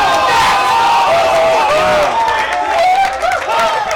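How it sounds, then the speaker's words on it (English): Loud crowd cheering and shouting at a gaming tournament, rising in waves of excited yells and whoops, with commentators' voices talking over the roar. "the crowd is popping off with him"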